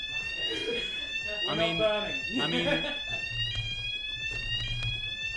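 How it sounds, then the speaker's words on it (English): A fire alarm sounding indoors, a continuous high electronic tone with steady harmonics running throughout, while a person speaks over it. "we didn't need to set off the alarms."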